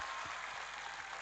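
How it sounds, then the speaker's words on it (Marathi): Audience applause welcoming a speaker at a political rally in Nagpur, a brief, even wash of many hands clapping, heard faintly and at a distance. "आपण सगळ्यांनी टाळ्या वाजवून स्वागत करा"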